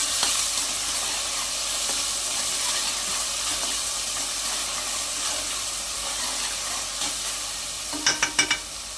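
Ginger garlic paste frying in a pan for tomato rice, a continuous hissing sizzle with light stirring, ending in a few sharp clinks of a utensil against the pan.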